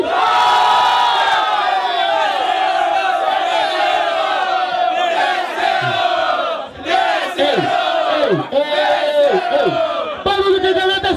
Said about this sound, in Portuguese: Barulho que gostou da rima do MC Pelé